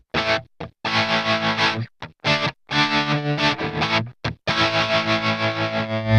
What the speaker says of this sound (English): Let's check out the distortion, and let's just use Drem Road.